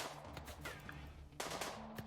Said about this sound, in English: Somehow she's avoided a lot of gunfire already.